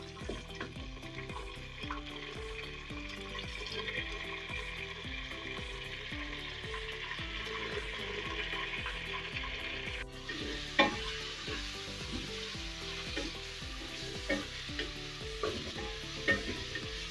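Meat frying with browned onions in a pot, a steady close sizzle with repeated scraping and stirring of the utensil and a few sharp clinks, with no talking.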